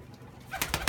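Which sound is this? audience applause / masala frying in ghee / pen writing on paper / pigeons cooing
pigeons cooing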